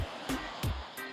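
Ocean surf on a beach in Canada, a steady wash of breaking waves with a few stronger surges, heard alone and close.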